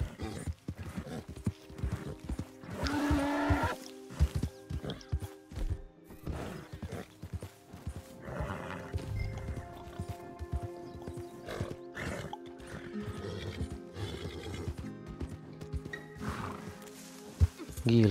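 Horse hooves clip-clop in Red Dead Redemption 2, a steady trotting rhythm heard under game music and other sounds, with a horse whinny and a person talking at points.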